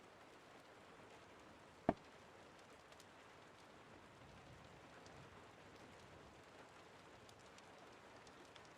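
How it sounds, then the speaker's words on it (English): Steady, soft rain patters evenly in the background throughout, with a single sharp knock partway through and no voices. "Is it too loud, by the way? The rain?"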